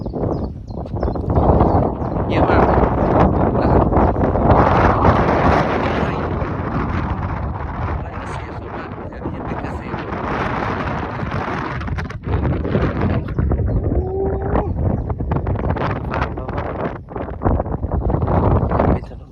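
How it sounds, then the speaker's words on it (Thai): Strong cold wind gusts across the microphone in the countryside outside Havndal, Denmark, a loud, continuous roaring buffet that rises and falls throughout with no break. "ลม ลมเย็นนะลมเย็น"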